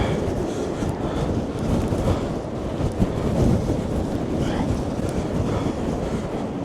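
Strong storm wind batters the microphone on Blackpool's seaside promenade at high tide near North Pier, a loud continuous low roar and buffeting with no pauses.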